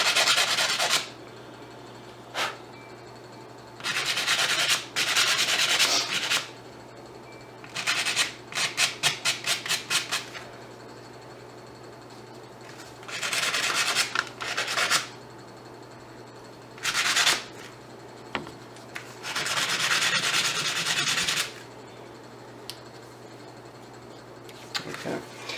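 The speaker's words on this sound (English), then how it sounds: "all I'm using is just a block of wood and the sandpaper and the block of wood to kind of keep it stable" Close, scratchy hand sanding of metal fasteners with sandpaper held on a wood block, in repeated bursts of quick rubbing strokes separated by short pauses.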